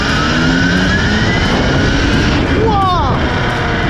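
A motorcycle engine revs at low power, producing a dense roar with whining tones that sweep upward near the end.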